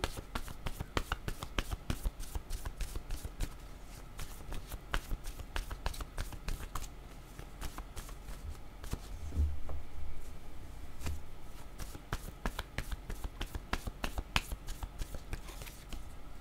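Tarot cards shuffled and drawn in a quiet room, a steady run of soft papery flicks and riffles with occasional louder slaps as cards are laid down, close and fairly quiet throughout.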